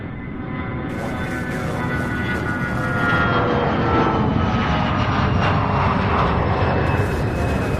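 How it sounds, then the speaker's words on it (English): UPS Boeing 757 cargo jet coming in to land at Louisville's UPS Worldport, a steady, loud engine roar that swells and holds throughout with no talk. "coming in for a landing now, a 757 UPS 2907"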